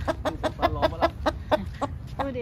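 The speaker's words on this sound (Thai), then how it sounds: "หูได้ยินเสียงไก่ไหมอ่ะ" A chicken clucks in a quick, steady series of about ten calls, close and clear, with low background rumble.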